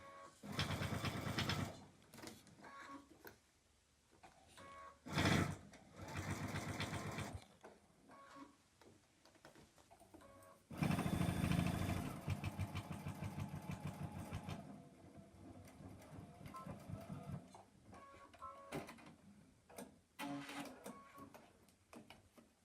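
A sewing machine stitches across a fabric pleat on a double pocket in bursts of fast, steady running, stopping and restarting several times with quiet pauses between the runs.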